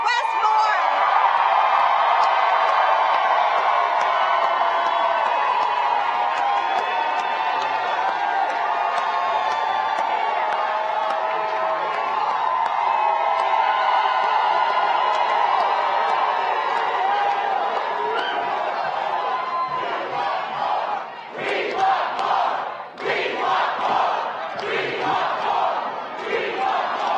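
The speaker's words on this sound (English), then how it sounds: "Let's have a round of applause for your next governor, Wes Moore." A large rally crowd cheers, whoops and applauds loudly for Wes Moore, a Maryland governor candidate, at a get-out-the-vote event with President Biden, a dense sustained roar that breaks into choppier shouts near the end.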